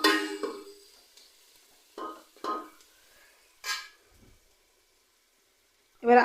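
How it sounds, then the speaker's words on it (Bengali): Chopped tomatoes with raw fennel seeds and spices being stirred in a frying pan, with several separate short bursts of scraping and sizzle broken by quiet gaps. "এবার আমি দিয়ে দেব টমেটো কুচি, এগুলো ভালো করে নেড়ে নেবেন।"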